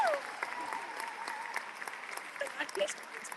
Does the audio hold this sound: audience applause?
yes